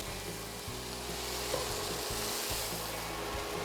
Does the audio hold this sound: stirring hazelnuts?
yes